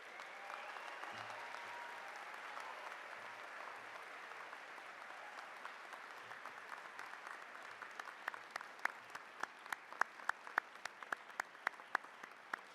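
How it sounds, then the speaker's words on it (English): A commencement audience applauds, a dense, fairly faint wash of clapping that thins toward the end into sparse, distinct individual claps. "Can we get one more round of applause, please?"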